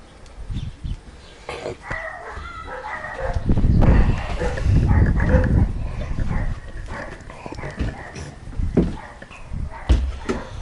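Several dogs bark and yip in bursts, fairly close and loud, with a surge of barking mid-clip over outdoor background noise.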